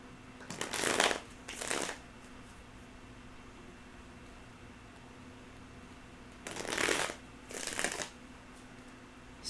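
Tarot cards are shuffled in two pairs of brisk riffling bursts, close and crisp, separated by a long quiet gap of room hiss.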